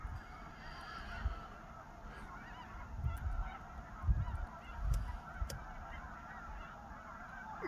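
A distant spring flock of snow geese, with a few Ross's geese among them, honks steadily in a dense, overlapping chorus over a low wind rumble.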